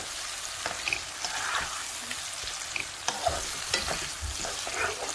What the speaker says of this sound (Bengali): এখন এগুলোকে একটু ভালো করে আমি কষিয়ে নেব